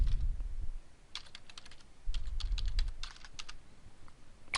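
Keys tapped on a computer keyboard while a username and password are entered at a login page, coming in two quick bursts of close, crisp clicks with no talking.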